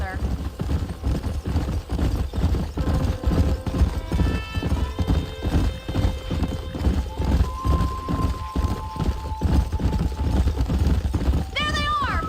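Steady clip-clop of galloping hooves with a horse neighing near the end, set against game music and occasional voices.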